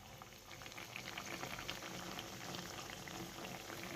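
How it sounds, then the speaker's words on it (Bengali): Puri deep-frying in hot oil bubbles and crackles in a dense, steady rush, close and moderately quiet, with no talking. "এই হচ্ছে গরম গরম পুরি ভাজা।"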